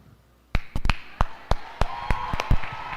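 Church congregation clapping at a Brazilian worship service, a dozen or so sharp, separate hand claps spread irregularly over a few seconds after a quiet start.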